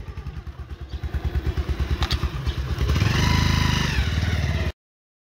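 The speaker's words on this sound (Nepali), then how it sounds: "रोसन्दाको बाइकलाई अब यहाँ छोडेर मेकानिकले बनाइदिँदै गर्छ" A motorcycle engine runs at a roadside mechanic's garage in Mustang, first in a close, steady thumping idle, then rising into a louder, smoother rev before cutting off abruptly.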